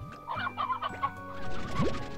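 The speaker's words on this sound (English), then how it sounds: "Chickens." Chickens clucking in the video game Slime Rancher 2, several birds giving short, overlapping clucks and a rising squawk near the end, close and clear with no talking.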